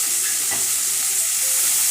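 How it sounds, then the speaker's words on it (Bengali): Potatoes and snake gourd fry over a high gas flame, producing a loud, dense, close sizzle with a few quick stirring scrapes, and no one speaks. "হাই ফ্লেমে আলু আর চিচিঙ্গাটা ভেজে নিতে হবে ভালো করে।"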